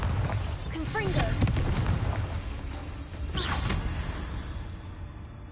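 Spell blasts from Bombarda and Confringo in Hogwarts Legacy burst out as booming explosions with crackling debris, layered over dense game noise, one strong hit near the start and another around the middle.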